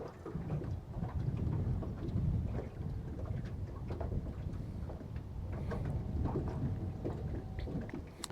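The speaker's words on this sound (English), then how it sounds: "So the wind's kind of strong right here." Strong wind buffets the open air while fishing on a river, a steady rumbling roar with gusty swells, loud and close, with no voices.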